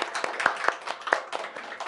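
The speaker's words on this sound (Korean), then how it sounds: "우리에게 계신 주님 앞에 한번 감사의 박수를 드립니다" Sparse, uneven hand claps from a few people in a church service, loud and close, with a short pause between bursts.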